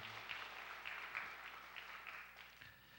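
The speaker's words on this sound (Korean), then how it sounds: "격려의 박수 부탁드립니다" A church congregation claps in encouragement during Sunday worship, a soft, even patter of many hands heard from a distance in a reverberant room, sustained without voices.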